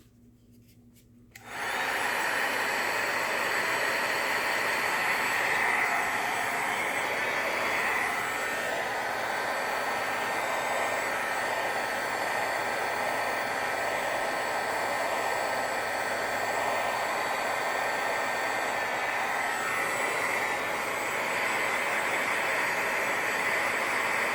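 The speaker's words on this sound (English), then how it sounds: "I'm gonna hit this with the dryer again." After a brief quiet moment, a hair dryer switches on and blows with a loud, steady whooshing roar that continues unbroken to the end.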